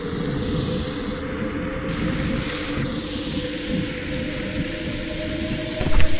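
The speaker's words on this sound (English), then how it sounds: "Oh, it's raining now." Steady rain hisses in a VR horror game set in a Japanese haunted house, a dense constant wash with a faint low rumble beneath and a brief louder burst near the end.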